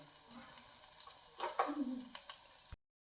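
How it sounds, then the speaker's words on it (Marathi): Cooked sweet corn upma is stirred in a pan, giving a brief soft scraping and light sizzling up close and quiet, ending abruptly after a few seconds. "आता आधी झाकून काढून चांगलं हलवून घ्यायचं आहे"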